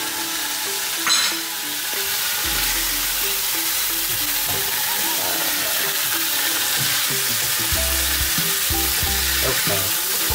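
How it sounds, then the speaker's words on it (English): Onion fries together with conch in a hot pan, a steady close sizzle that runs throughout, with occasional stirring knocks and low scraping under the hiss. "Alright, we're gonna throw some onion in."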